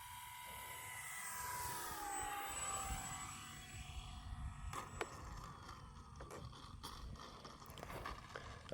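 An EFlite Spitfire Mk XIV RC model plane, 1.2 m span, flies past with full flaps, its electric motor whine loud and steady, sweeping down in pitch as it passes, then fading under wind and handling noise.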